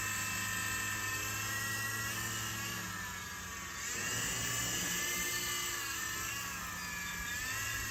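A Hercules RC helicopter whirs at full throttle with a high, steady motor whine and buzzing rotor drone, dipping briefly in pitch before climbing again, close and continuous.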